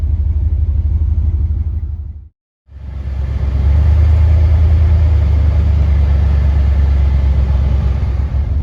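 Steady low engine rumble inside a car creeping through hot August traffic with the air conditioning running, a continuous loud drone briefly cut to silence before resuming, no talk.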